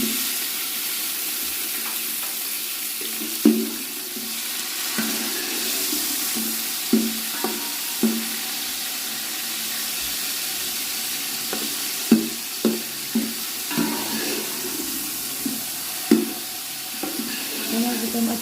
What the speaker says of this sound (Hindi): टमाटर को हम अच्छी तरह से मिक्स करके 3 मिनट के लिए इसे पकने के लिए छोड़ देंगे।